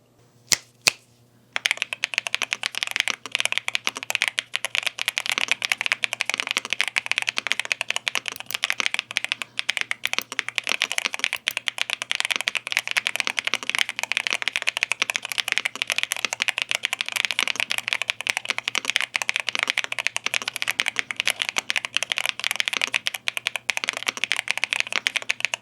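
Fast, continuous typing on a YUNZII AL65 aluminum mechanical keyboard, crisp clacky keystrokes close up, running steadily without any talking.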